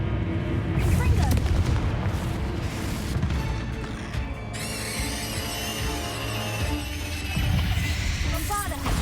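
Explosive Confringo blasting spells in Hogwarts Legacy, with heavy booming impacts and crackling bursts over a busy battle soundscape and music, plus some voices in the mix.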